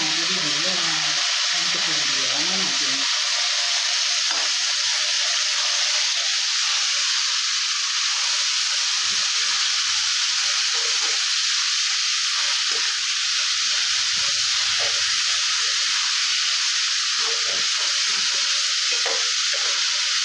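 Mint leaves frying in a pan, a loud, steady hiss and sizzle that holds for the whole stretch, with a brief voice at the start.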